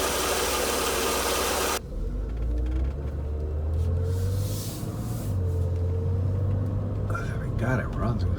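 A 1992 Mercedes W124 engine runs with a steady low rumble after a loud burst of noise at the start, while a person talks over it.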